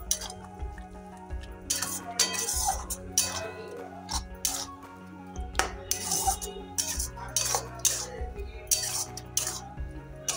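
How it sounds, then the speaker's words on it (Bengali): Mango pickle with two spoons of fried spice mix being stirred in a pan, with repeated metallic clinks and scrapes of a spoon against the pan in irregular bursts, close and moderately loud, no talk. "মশলাটা দিয়ে এখন আমি নাড়িয়ে চাড়িয়ে নিচ্ছি"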